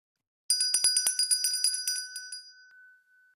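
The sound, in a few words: bell ringing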